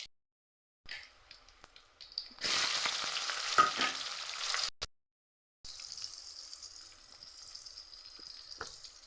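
Mustard seeds, fennel and chili hit hot oil with a crackling sizzle that swells loud for a couple of seconds, cuts out briefly, then settles into a quieter, steady frying hiss.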